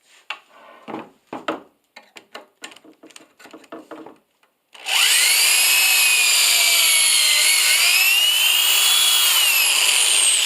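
A power drill bores pocket holes through thick wood held in a clamped Kreg jig, starting with a few short scraping taps, then a loud continuous high whine that runs steadily to the end.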